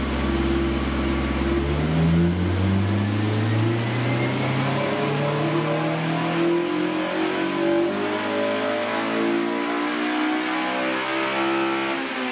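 A car engine revs steadily on a dyno during a horsepower test run, its loud, close drone climbing in pitch through the gears in a long continuous pull without talk.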